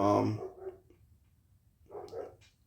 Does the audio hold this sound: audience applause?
no